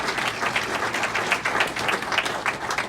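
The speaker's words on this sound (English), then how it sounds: "we want to applaud for you, Greg" Guests at an ALS charity golf outing applaud their host in a brisk, even burst of clapping from a sizeable crowd.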